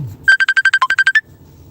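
A phone ringtone for an incoming call plays as a quick, loud run of about ten evenly spaced electronic beeps, one of them pitched lower, followed by quiet room noise.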